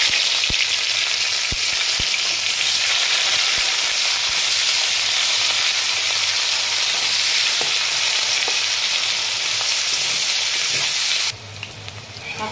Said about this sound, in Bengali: পেঁয়াজগুলো আমার অর্ধেক ভাজা হয়ে গেছে।